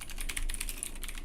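Quick, uneven clatter of fingers typing on a computer keyboard, close and fairly quiet, with keystrokes tumbling in rapid bursts and no voices.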